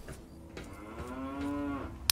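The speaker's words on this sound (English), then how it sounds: "Moo indeed." Cow mooing in the video game Fallout 3, a single drawn-out low moo rising and falling over a couple of seconds against faint game ambience, ending with a sharp click.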